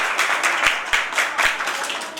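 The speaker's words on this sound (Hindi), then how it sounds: "जोरदार ताली बजाओ" A group of children at a Jain pathshala clapping loudly together, with a steady burst of applause and a few heavier claps standing out.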